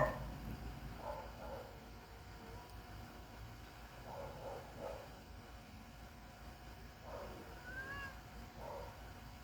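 A faint kitten gives several thin, plaintive meows at intervals over a low background rumble.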